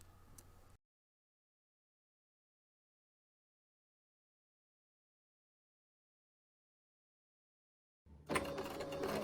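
A sewing machine runs a straight stitch along the long edges of fabric for a kitchen scarf, in a short burst at the start and a louder, steadier run near the end, with a long silence between.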